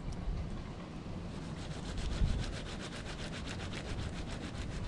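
A sea urchin is being scrubbed clean by hand, giving steady rapid rasping strokes, soft and close, continuous for several seconds with no talking.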